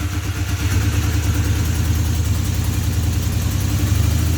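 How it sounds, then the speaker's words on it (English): A Honda CB250N twin-cylinder motorcycle engine idles with both cylinders firing, a loud, close, even throbbing burble that holds steady throughout with no speech. "that is definitely both cylinders firing"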